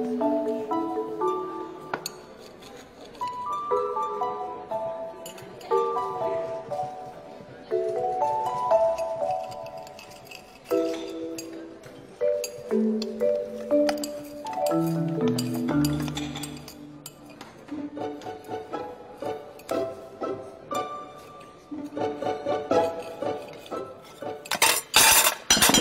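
Metal knife and fork clink and scrape against a plate at a formal table, a run of light, bright taps spread through the stretch with a louder clatter near the end, under soft background music.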